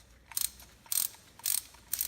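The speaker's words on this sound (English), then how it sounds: "You're gonna wrench on it with your little 3/8 ratchet." A 3/8-inch ratchet threads a spark plug coated in anti-seize into a 5.4L 3-valve Ford F-150 engine, giving four short bursts of rapid pawl clicking at an even rhythm, close and clear.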